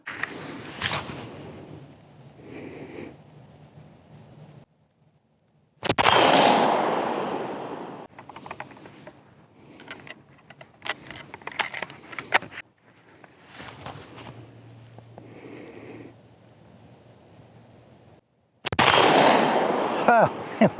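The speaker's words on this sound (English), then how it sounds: "now we'll shoot at that 100-yard target, which is pretty small" A Savage Model 1899 rifle fires loud outdoor shots at a 100-yard target. A few blasts are spaced several seconds apart, each followed by a rolling echo, with talk and handling sounds in between.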